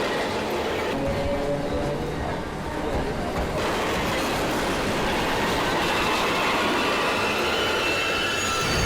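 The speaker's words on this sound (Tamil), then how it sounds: "ட்ரெயின் கிளம்பிட போகுது" A passenger train moving along the tracks, with a dense rumble, rattling wheels and squealing carriages sustained throughout, loud and close as from inside a crowded carriage.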